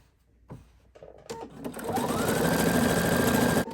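A sewing machine stitches appliqué onto a t-shirt dress, starting with a few clicks and thumps before settling into a loud, steady rapid stitching whir that runs to the end.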